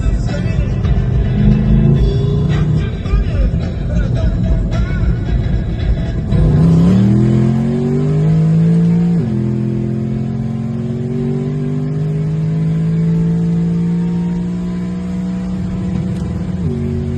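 A roll-race car making about 750 horsepower roars under hard acceleration, loud and close. The engine pitch climbs steadily through a long pull, drops at each gear shift and climbs again across several gears.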